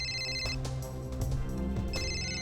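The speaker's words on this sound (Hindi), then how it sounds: "किसका फोन है?" A telephone ringtone plays loudly in a domestic setting, a repeating electronic melodic pattern with bright tonal bursts, heard alone without talk.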